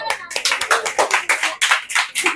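Hands clap in a quick, steady rhythm of about ten sharp claps, close and loud, as a classroom applauds during a Hindi-medium maths lesson.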